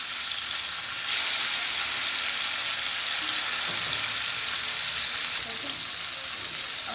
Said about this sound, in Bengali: এই বেগুনের ভাজার তেলে মাছগুলোকে